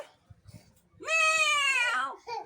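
A man imitates a goat, giving one long wavering bleat after some quiet murmuring, close and clear.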